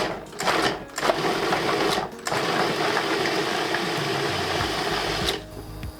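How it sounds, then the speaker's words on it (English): A food processor chops onion, celery, carrot and garlic in loud, close bursts of whirring motor noise, starting and stopping in short pulses before one longer run. "we're gonna chop it very fine using a food processor"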